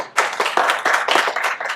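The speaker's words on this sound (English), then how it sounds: "Round of applause, ladies and gentlemen." A small audience claps in a brief, close burst with distinct individual hand claps, uneven and bunched, lasting under two seconds.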